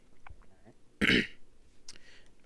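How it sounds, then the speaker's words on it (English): One person clears their throat in a short, rough burst, close and fairly loud, with faint small noises before and after. "Clear my throat."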